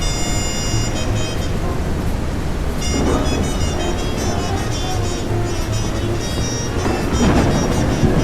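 A thunderstorm weather effect in the Ship Explorer video game, heard during a tour of the Morro Castle: steady, loud rain hiss with low rumbling thunder swelling throughout, and no voices.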